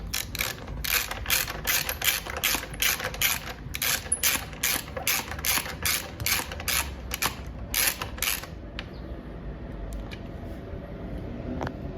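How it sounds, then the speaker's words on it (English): A ratchet clicks in a quick steady rhythm, close and crisp, while tightening the last bolt on a Honda CBR/CB 650R integrated taillight mount, then stops and leaves quiet room tone. "tighten down the last bolt"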